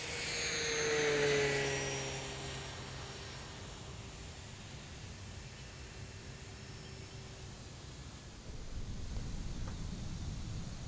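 An electric RC DuraFly Spitfire Mk2a warbird model plane makes a full speed pass with a whining motor and propeller tone that rises, peaks and slides lower as it goes by. A faint, airy wash and rustle follow.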